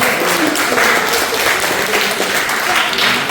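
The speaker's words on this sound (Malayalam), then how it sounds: "ഒന്നുകൂടി ഒന്ന് കൈയടിക്കാൻ തോന്നുന്നു" An audience at a school-opening celebration claps loudly and steadily, a thick wash of many hands close by that stays constant with slight swells and no break.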